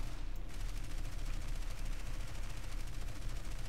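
Rapid, continuous aircraft machine-gun fire in War Thunder, a dense steady stream of closely packed shots rattling loudly with no pauses throughout.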